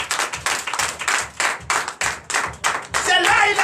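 A church congregation at a Sunday service in Comè, Benin claps in acclamation, bursts of rhythmic hand claps rising and falling in waves, fairly loud and close, with a brighter swell of cheering near the end.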